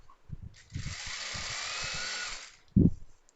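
Electric sewing machine stitching a fall onto a saree, a steady whirring run of about two seconds between brief taps and bumps, close and moderately loud.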